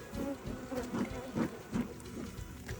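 Honey bees swarm a hive's honeycomb during a hive check, a steady close buzzing hum that swells and dips in pulses.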